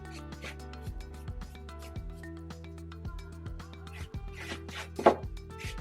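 Paintbrush spreading chalk paint over a thrifted bookcase, with soft, quiet rubbing strokes repeating unevenly up close over faint steady background tones.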